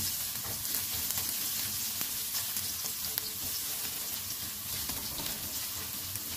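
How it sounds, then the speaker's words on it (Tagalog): Garlic fries in Star margarine in a pan, giving a steady, dense sizzle that hisses on without a break. Nobody speaks. "Ating pupukulahin ng kaunti ang ating bawang mga kaibigan."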